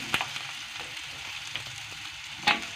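Sliced carrots drop into a hot pan of frying coconut-scented vegetables for capcay, giving a steady close sizzle with a couple of sharper crackles and spits.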